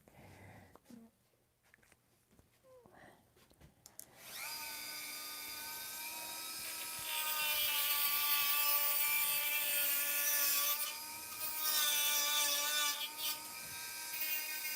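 Wood is cut off by hand at a workbench, a sustained bright rasping and whining cut starting after a few quiet seconds and growing louder, running continuously to the end with brief dips.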